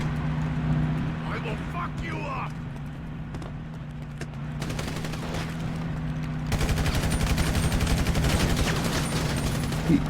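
Bursts of gunfire ring out in a GTA roleplay game, with a few scattered shots and a denser volley later on, heard beneath players chatting over voice chat.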